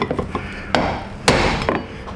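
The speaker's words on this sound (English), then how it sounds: "you get out a bigger hammer and a bigger chisel" A hammer strikes a chisel while working on a 2016 GMC Sierra in-tank fuel pump, with a few sharp metallic whacks spaced irregularly over a couple of seconds, loud and close, with no talking.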